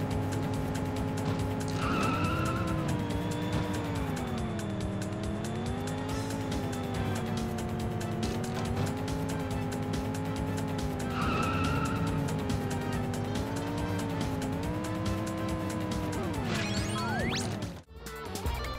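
Racing game Moto Racer on a 3dfx Voodoo 1 PC gives a loud, steady whine of revving motorcycle engines that climbs and dips with gear shifts, with tyre squeals and a brief crash near the end and no talk.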